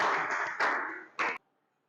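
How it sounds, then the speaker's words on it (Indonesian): Brief applause in a classroom lesson on the Vedas, a short burst of clapping that swells twice and cuts off abruptly into near silence, moderately distant. "Boleh tepuk tangan dulu"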